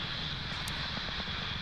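Falcon 9 rocket engines thunder during launch ascent from Pad 40 at Cape Canaveral, a steady, broad, distant roar that holds evenly throughout with no talk over it.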